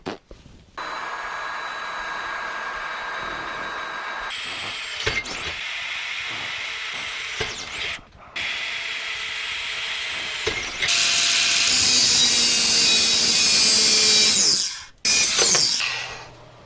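A power drill runs in long continuous bursts, whining steadily and rising to a louder, higher grind as it bites into metal bars in a shed, with brief stops between.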